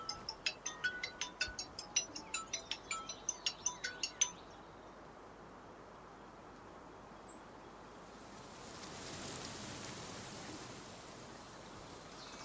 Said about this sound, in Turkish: Kusura bakmayın, telefon çaldı.